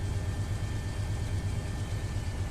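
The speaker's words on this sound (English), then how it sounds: "Now that we've got a load on this engine, you can hear the turbo spool up." A diesel locomotive in the Run 8 train simulator pulls under load. Its engine gives a steady low throb with a faint whining turbo tone that holds evenly throughout, with no talking.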